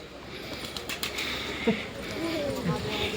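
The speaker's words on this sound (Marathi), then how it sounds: "हे कबूतर आहेत आपले पाळीव पाळीव कबूतर आहे" Soft, low coos from domestic pet pigeons murmur in the background of a quiet village outdoor scene, with a faint flutter of wings and steady ambient hiss.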